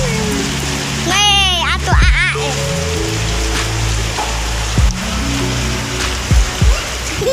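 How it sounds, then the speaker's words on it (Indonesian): Heavy rain pours steadily onto a yard, a loud continuous hiss and patter throughout, with a person speaking briefly near the start and a few sharp bumps close by. "Hujannya badak euy."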